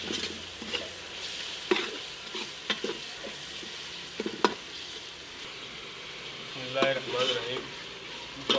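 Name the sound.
frying and stirring spice masala with turmeric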